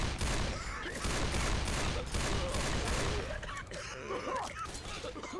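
Gunfire from a powerful gun in Left 4 Dead 2, a rapid, loud burst of repeated shots for several seconds, thinning into scattered game noises and grunts.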